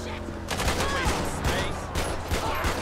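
Gunfire in the GTA 5 video game with the LSPDFR police mod during a city patrol: a rapid series of sharp, loud shots in quick bursts, sounding like a fusillade, while a voice talks over the shooting.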